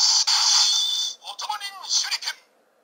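A Ninninger Otomo Nin Shuriken Gekiatsu candy-toy plays a bright electronic sound effect: a sustained high tone, then a short burst of chirpy, voice-like electronic sounds, loud and close.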